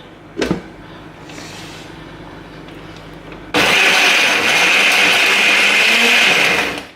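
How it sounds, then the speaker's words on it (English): After a brief knock and quiet hum, a blender puréeing homemade baby food suddenly whirs to life, running loud and steady before cutting off at the end. "I put it in here. To the blender."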